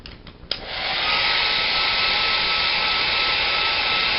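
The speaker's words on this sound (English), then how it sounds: "So I'm going to dry my hair" A hair dryer drying long hair before straightening: a few clicks and a brief start-up, then a loud, steady, close whoosh that keeps running without talk.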